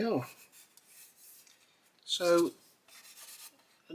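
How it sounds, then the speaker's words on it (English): Primed plastic on an Airfix 1/72 Lancaster B.III model kit is sanded by hand with soft, faint rasping strokes, close up, with a brief spoken word at the start. "you can see here we're sanding"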